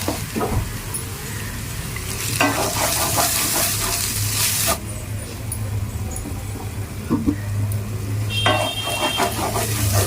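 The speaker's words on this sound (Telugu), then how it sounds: "అల్లం వెల్లుల్లి పేస్ట్ వేగిపోయింది కదా" Ginger garlic paste frying in oil in a pan, a continuous close sizzle with bursts of stirring and scraping that swell and fade over several seconds, with faint voices at times.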